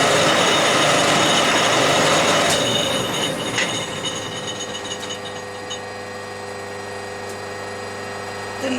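A metal part spins in a lathe with a steady mechanical whir and high metallic ringing tones, loud at first and then settling lower with a few faint clicks.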